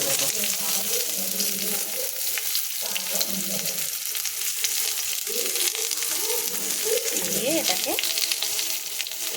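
Chopped onion and garlic frying in oil with bay leaf, cumin and green chili: a loud, continuous close sizzle with scraping stir strokes through it.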